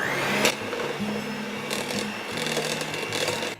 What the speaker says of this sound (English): So I'm just going to cream those together with my hand mixer.